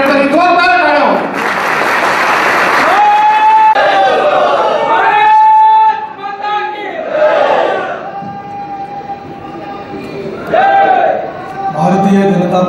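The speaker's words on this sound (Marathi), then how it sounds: "जोरदार टाळ्या हो" A large crowd at a political rally in Bhusawal applauds and cheers loudly and continuously while an amplified speaker's voice carries over the noise.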